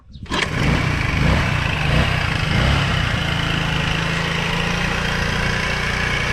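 A Chinese 125cc scooter engine cranks and catches, then settles into a steady, buzzing idle that stays loud and even for several seconds. It runs on its own with no talk.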